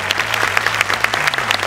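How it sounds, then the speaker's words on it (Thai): Audience applause for a panel of five judges at an innovation awards show, dense steady clapping with a low hum underneath. "ขอเสียงปรบมือดังๆเลยครับ"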